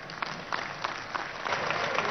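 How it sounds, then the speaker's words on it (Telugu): Dense, continuous crowd clapping fills a stadium at a Christmas celebration, a steady roar of many hands with scattered sharper claps, close and sustained throughout. "కొడితే బాగా కొట్టాలి చప్పట్లు"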